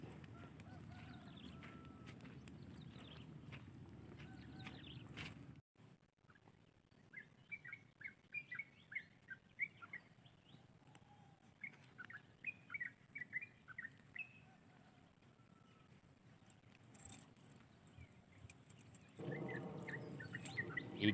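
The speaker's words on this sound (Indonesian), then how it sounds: "suara burung masih banyak sekali," Birds chirp in short repeated bursts over a quiet outdoor background at the eastern edge of Surabaya, some calls close and bright, others fainter, with occasional low rumbling noise.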